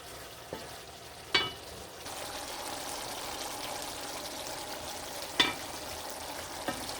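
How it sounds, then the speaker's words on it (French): Tofu pieces simmering in General Tao sauce in a pan, giving a soft steady bubbling sizzle at low volume, broken by a few sharp utensil clicks against the pan. "Et on laisse mijoter un petit peu jusqu'à temps que la sauce enrobe vraiment tous les morceaux."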